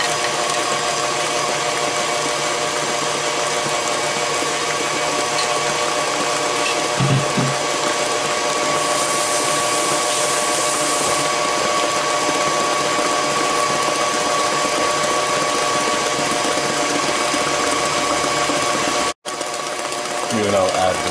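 Electric mixer whirs at a steady, loud drone while mashed bananas are beaten into banana cake batter, with a brief bump and a short cutout near the end.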